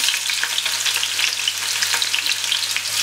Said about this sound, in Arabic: وغادي نقليهم مزيان